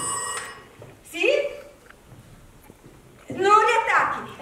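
A telephone rings in a kitchen, its electronic ring starting the clip; people talk between and over the rings, with a louder burst of speech near the end.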